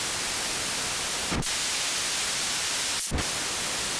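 Steady broadband grey noise from a Hydrasynth synthesizer's noise source hisses evenly throughout, with two brief, faint clicks breaking the texture partway through.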